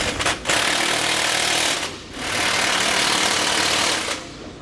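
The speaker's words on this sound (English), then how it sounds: "Then we can tighten that hardware back down." Rapid hammering bursts from a power tool tightening the bracket bolts of a Roadmaster rear anti-sway bar on a 2015 Tiffin motorhome, in two long loud runs with a short break between, close up and with no talking.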